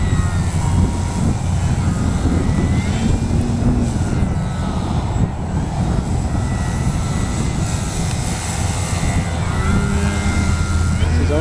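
An XR-52 remote-control model airplane flies maneuvers outdoors in wind, its propeller engine droning steadily and loudly throughout, rising and falling slightly as it passes.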